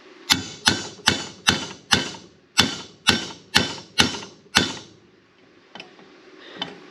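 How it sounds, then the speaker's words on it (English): Ten sharp metallic hammer blows strike a stuck pin on a VW Beetle hood strut in a steady, even rhythm, close and loud, followed by a couple of faint taps. "I've got the pin here, and I'm just hitting from the back side"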